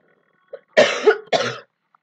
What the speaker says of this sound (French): Désolée si je tousse.